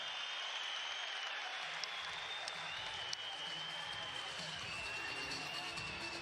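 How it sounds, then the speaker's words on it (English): At an MMA event, a crowd applauds and cheers in a distant, continuous wash of claps and noise, with a few sharp pops standing out briefly. "And the crowd on their feet."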